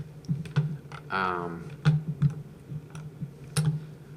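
Typing on a computer keyboard, a few close, separate key clicks in an uneven rhythm, with a brief spoken sound partway through.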